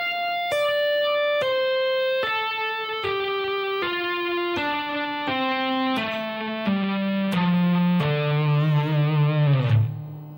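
Distorted electric guitar runs a descending legato line of hammer-ons and pull-offs, a quick steady stream of smooth connected notes stepping lower, ending on a sustained low note with vibrato.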